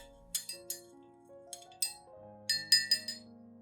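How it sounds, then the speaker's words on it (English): A spoon stirs baking soda solution in a glass, making a series of light, bright clinks against the glass, some single and some in quick clusters, close and clear over a quiet background. "Use a spoon to stir until the baking soda is completely dissolved"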